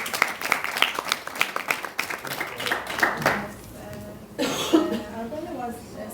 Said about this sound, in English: So we'll give you applause for this.